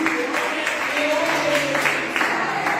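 Church congregation applauding during a sermon, a steady wash of many hands clapping together at even loudness throughout, with some voices mixed in.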